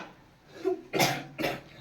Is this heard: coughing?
yes